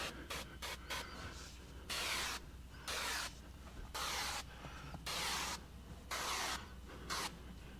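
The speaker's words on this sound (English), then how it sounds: "don't let your sprayer hit the carpet or the headliner" Spray bottle misting tint solution inside a 2020 Kia Optima, about six short bursty hisses in a loose rhythm, close and fairly loud with quiet gaps between.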